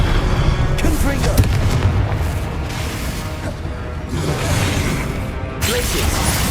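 Confringo spell blasts in Hogwarts Legacy, a run of booming, crashing explosions in quick succession, loud and close amid other spell effects.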